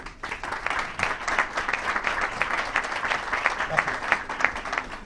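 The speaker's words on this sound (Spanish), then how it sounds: "Un aplauso para Juan José Linares, consejero delegado de GPM" Audience at a Spanish asset-management industry conference clapping steadily for an executive, a dense continuous patter of many hands at moderate level that holds evenly throughout.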